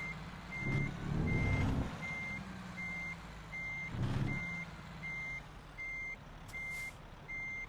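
A truck in American Truck Simulator backs up, its reversing alarm sounding a regular series of clear, evenly spaced beeps over a low engine rumble, with a couple of brief air-brake hisses.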